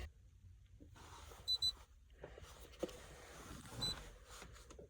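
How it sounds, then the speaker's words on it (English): A Jeep's door-open warning gives a few short electronic beeps in quick pairs, then once more later, over a low idling rumble and faint background clatter. "Close the door so it stops beeping."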